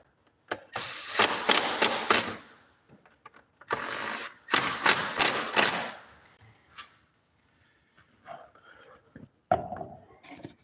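A ratchet tightening the main shoulder bolts on a bicycle, with bursts of rapid clicking close by in several short runs separated by pauses and a few quieter taps and handling sounds near the end.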